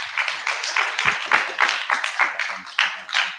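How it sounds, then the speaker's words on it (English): An audience applauds a speaker being introduced at a work event, with a burst of clapping that rises and falls in uneven waves for several seconds. "So yeah, round of applause for Rachel, please."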